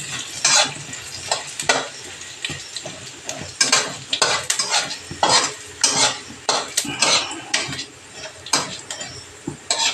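Chana dal and urad dal frying lightly in a pan with a spoon repeatedly scraping and stirring, giving rhythmic clinks and scrapes over a soft sizzle, close and moderately loud, with no voices.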